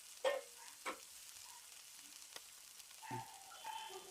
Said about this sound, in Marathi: 2 मिनिटासाठी वाफेवर ही भाजी मंद आचेवर ठेवूया